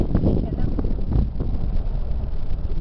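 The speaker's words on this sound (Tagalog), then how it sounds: "Ay, grabe palang hangin dito." Strong wind buffets the microphone outdoors, a loud, close, continuous low roar with gusty surges, and a voice speaks underneath.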